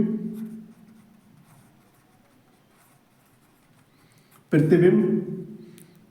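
Pen scratching on paper while a physics mirror problem is worked out, faint and steady beneath a voice, with a louder burst of speech near the end.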